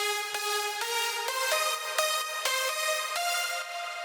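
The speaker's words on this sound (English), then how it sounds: "Once it's processed, our lead sounds like this." A bright processed synth lead for an emotional progressive house track plays a melodic line of distinct plucked notes with stereo width, moderately quiet and heard alone without talk.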